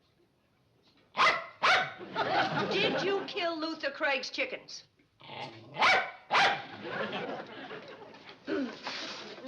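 A dog barks sharply several times and growls in between, close and loud, while someone speaks briefly at the start.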